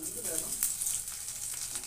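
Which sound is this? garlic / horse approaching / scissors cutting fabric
garlic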